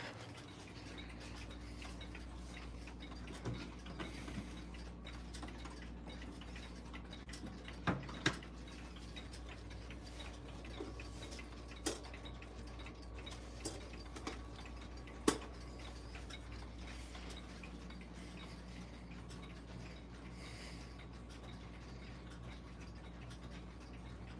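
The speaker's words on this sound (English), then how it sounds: "I hear that unknown regulator ticking." A regulator clock ticks steadily and softly in a quiet room, with a few sharper clicks standing out over a low background hum.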